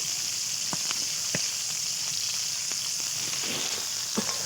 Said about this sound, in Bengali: এইভাবে ভেজে নেবো পেঁয়াজটা